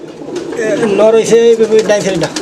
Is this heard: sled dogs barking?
no